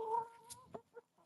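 Backyard chickens cluck and squawk in a short, close burst of a few sharp calls over a faint background hum.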